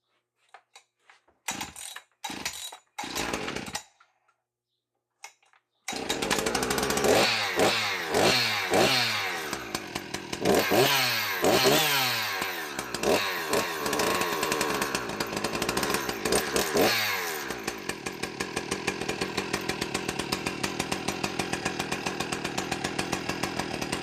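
Three 60cc Poulan chainsaws are started with a few short pulls, then run and rev repeatedly in loud, close bursts before settling into a steady high idle.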